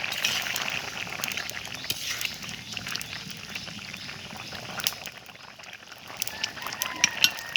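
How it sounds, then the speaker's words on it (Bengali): Water pours steadily into a cooking pot with pumpkin for a thin, light fish curry, a broad hissing splash running for several seconds at moderate level, with faint kitchen background and no talk. "পানিটা একটু বেশিই দেব"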